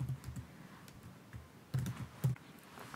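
Keys on a computer keyboard are typed in short, sparse clicks while a keyword is entered in Apple Photos, with a few louder key presses near the end and no talking.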